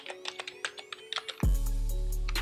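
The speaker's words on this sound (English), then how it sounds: "I'm gonna type in" Keys on a computer keyboard clack in a quick, irregular run of about a dozen close, crisp taps, then stop as a steady electronic tone takes over.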